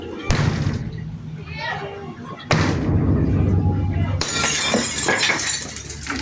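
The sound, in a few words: window glass being broken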